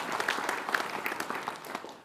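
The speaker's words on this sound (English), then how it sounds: "Let's give him a round of applause in absentia." Audience applause at a university groundbreaking ceremony for a student-athlete performance center, a fairly light patter of clapping from a modest crowd, steady and somewhat distant.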